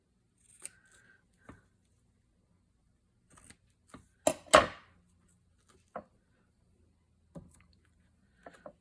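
Scissors snip paper while mini file folders are trimmed, a handful of quiet, separate cuts spaced irregularly with one louder pair of crisp snips in the middle, otherwise near silence.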